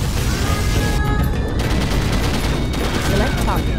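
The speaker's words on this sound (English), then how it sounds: "Particle cannon activated." A particle cannon fires in a strategy video game with a heavy mod, a dense, loud crackling barrage with sizzling bursts and rumbling impacts running steadily throughout, with no talking.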